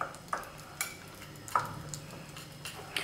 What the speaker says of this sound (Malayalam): ഞാനിപ്പോൾ ഒരു വിസ്ക് ഉപയോഗിച്ചിട്ടാണ് കേട്ടോ ഇത് മിക്സ് ചെയ്യണത്